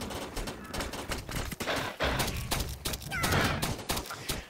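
Heavy gunfire in the video game Defiance while fighting hellbugs during an Arkfall, with dense rapid shots and overlapping bursts that continue without a break, loud and close.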